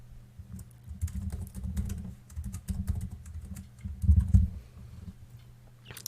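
A Roblox username is typed on a computer keyboard, a close, uneven patter of key clicks in short bursts with brief pauses, over a low hum.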